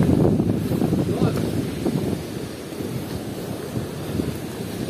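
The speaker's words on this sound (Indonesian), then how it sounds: "jadi di sini ombaknya besar sekali" Heavy surf roars continuously with wind buffeting the microphone, a dense low rumble of large open-ocean waves breaking nearby on the beach at Karangmangu.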